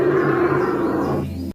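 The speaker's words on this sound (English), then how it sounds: "Number 1, the Australian bustard. When he opens his mouth, the sound is the same as a lion roar." An Australian bustard gives a single deep, drawn-out roaring call much like a lion, loud and close, lasting about a second and a half before cutting off.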